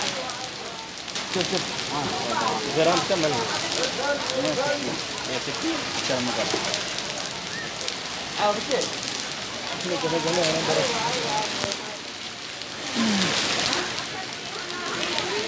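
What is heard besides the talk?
rain and hail falling in Medina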